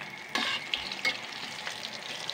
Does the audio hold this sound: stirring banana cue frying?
yes